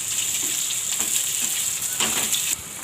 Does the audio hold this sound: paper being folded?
no